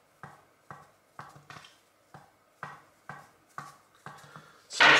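A series of sharp, evenly spaced tennis ball strikes on a racket strung with natural gut, about nine hits in quick rhythm, fairly close, with a louder burst of noise at the end.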